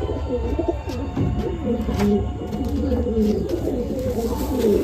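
Madrasi pigeons of top quality coo steadily in a loft, low rolling coos repeating throughout alongside fluttering and handling noise, with a faint voice now and then.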